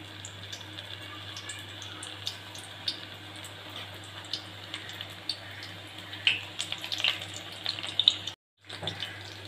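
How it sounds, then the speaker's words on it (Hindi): Onion pakoras frying in hot oil, a steady soft sizzle and crackle with scattered pops, heard close with a low hum underneath and a brief dropout near the end. "हमने पकोड़े डाल दिए हैं"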